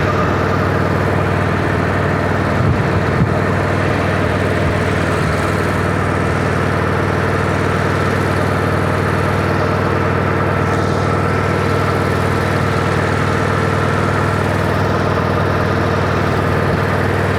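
A Harley-Davidson Road Glide CVO ST motorcycle idles, its engine a loud, close, steady low rumble that continues unbroken throughout with no voices.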